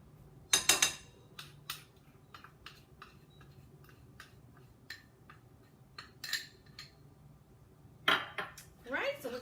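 Seasonings such as Creole seasoning, garlic powder, herbs de Provence and onion powder are stirred in a bowl with a utensil, producing scattered light clinks and taps close by. A couple of louder clatters stand out against a quiet background.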